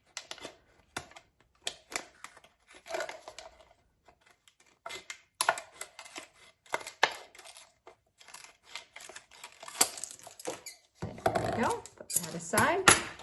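Scissors snip around a plastic bottle being cut into a planter, giving scattered short clicks and crinkly plastic rustles in an uneven rhythm, close up and fairly quiet.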